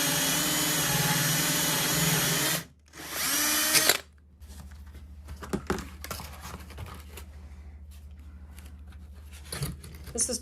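Drill boring a hole through tile for a sink, a loud sustained high-pitched grinding whine that stops abruptly, briefly resumes, then gives way to quieter scraping and handling noises with some talking.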